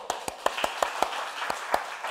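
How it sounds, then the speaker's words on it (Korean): A church congregation claps during a Sunday service: a few scattered, irregular hand claps, fairly close and moderate in volume, stopping and starting over a quiet room. "우리 박수."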